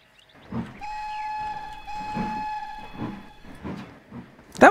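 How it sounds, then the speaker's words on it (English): A train whistle in Trainz Railroad Simulator 2019 on a Cornish main line sounds a sustained tonal blast, then a brief second toot over low rumbling and hiss, with a sharp burst at the end. "That whistle still is nice."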